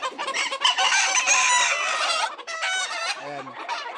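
Gamecock roosters on a farm, cocks being conditioned for next year's fights, cluck and crow repeatedly at close range, with overlapping calls filling the space and a longer crow rising near the end.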